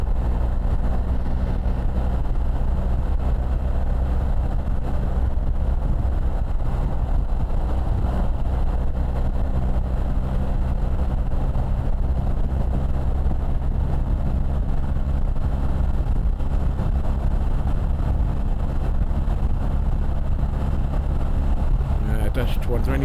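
A BMW R1300 GS adventure motorcycle pushed to speed on an open stretch of road, its engine and wind noise forming a steady, dense low drone that never lets up.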